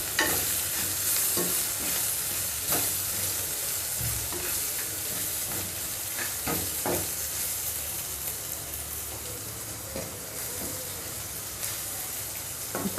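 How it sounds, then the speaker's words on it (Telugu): Onions fry in a tempering (popu) in a pan, a continuous close sizzle with scattered stirring scrapes running for the whole stretch, without speech. "కాస్త పోపు వేగనివ్వండి. ఈ ఉల్లిపాయల్లో ఉన్న పచ్చి కాస్త పోతే చాలు."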